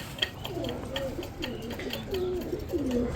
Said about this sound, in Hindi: ये जी कबूतरों का दाने का टाइम हुआ है और दाना डालने लगा था कबूतरों को